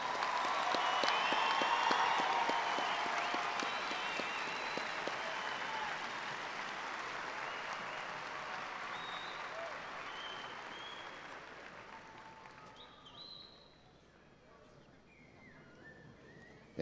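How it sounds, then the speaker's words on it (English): Applause for the graduates at a university commencement, a large crowd clapping loudly at first, then gradually thinning and fading as scattered claps trail off. "let's give the graduates one more round of applause"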